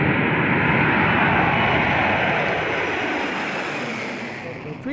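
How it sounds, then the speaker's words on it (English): A modified Boeing 747-400 global supertanker firebomber flies by with a loud, broad engine roar that holds steady and slowly fades toward the end, alone without talk. "The global supertanker is a modified Boeing 747-400."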